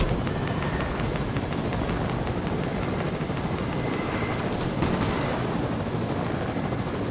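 A helicopter in a video game drones steadily throughout, its rotor and engine noise loud and continuous with no pauses.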